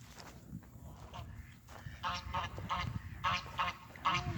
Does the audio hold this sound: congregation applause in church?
no